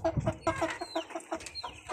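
Shamo and Asil chickens cluck in quick, uneven bursts close by, with a few higher squawks mixed in.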